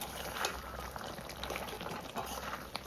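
Chicken kosha curry being stirred in a pot as garam masala is mixed in, a continuous close sizzling and bubbling with soft wet scraping, steady and moderately loud without talk.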